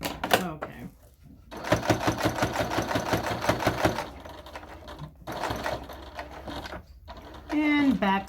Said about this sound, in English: And back stitch to finish off the project.